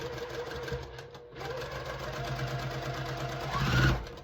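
A sewing machine stitches a sunflower quilt block, running steadily for several seconds with a rapid, close mechanical hum. The machine pauses briefly, then speeds up toward the end.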